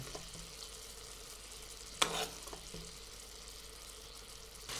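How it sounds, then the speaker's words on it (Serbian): Pork fillet medallions frying in fat at lowered heat give a steady broadband sizzle throughout, with a brief louder burst of spatter or basting partway through. "Dok se naši medaljoni od svinjskog filea prže, prelivat ćemo sa masnoćom."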